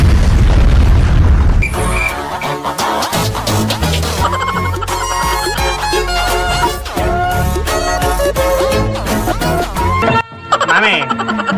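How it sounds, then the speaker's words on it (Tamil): A Diwali firecracker goes off in a loud, deep blast at the start, followed by loud festive music and layered sound. "மாமே ஒரு வெடி தானே வச்சேன்."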